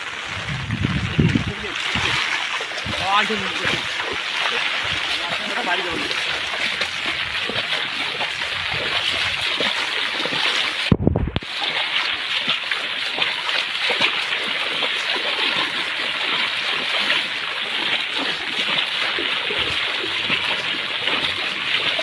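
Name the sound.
floodwater from the Jaldhaka river flowing into a village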